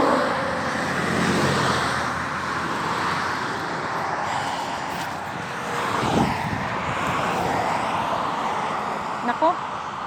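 Street traffic with vehicles passing, a broad wash of engine and road noise that swells as cars go by, with a louder pass near the middle.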